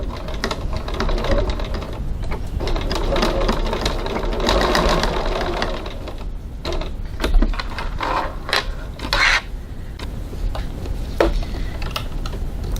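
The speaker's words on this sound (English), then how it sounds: "I'm just going to baste the 2 side edges together" Sewing machine basting the two side edges of a fabric bag, rapid mechanical stitching in bursts with short pauses and handling clicks between runs, close and clear.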